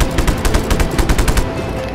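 Rapid automatic gunfire in the open-world action game Just Cause 3, a fast, even burst of loud close shots for about a second and a half, then a quick fade.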